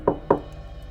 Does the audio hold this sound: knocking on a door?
yes